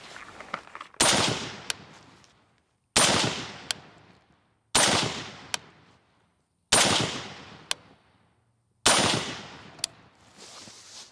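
A Sig Sauer MCX Spear rifle fires 175 grain Federal ammunition, with five sharp, loud shots spaced about two seconds apart. Each shot has a long echoing decay, and a short secondary crack follows it.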